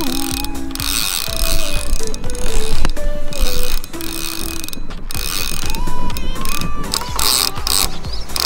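A carp fishing reel's drag ratchets and clicks continuously as a hooked carp takes line in Slovenia, loud and close, mixed with mechanical whirring and faint tonal sounds over the whole stretch.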